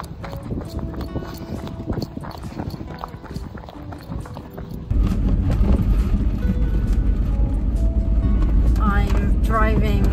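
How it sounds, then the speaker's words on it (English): A car driving away from the Lake District, with footstep-like thumps at first, then a loud, steady engine and road rumble taking over partway through, and brief squeaky sounds near the end. "I'm driving back to civilization, I suppose."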